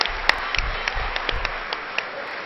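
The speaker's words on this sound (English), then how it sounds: "Nice round of applause." Scattered clapping from a small crowd in a gym during a high school girls' basketball championship game as an injured player walks off, the claps sparse and uneven and fairly close.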